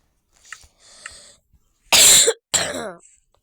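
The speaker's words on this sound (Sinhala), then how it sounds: "ෆ්‍රෙන්ඩ්ස් මට තාම කැස්ස." A person coughs several times: two soft, brief coughs are followed by two loud, harsh bursts close up, with no talking.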